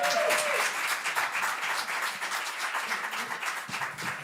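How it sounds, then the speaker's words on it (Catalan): A crowd claps and applauds steadily for several seconds at a live show, the applause dense and sustained, with a brief voice at the start. "I ara aplaudiu."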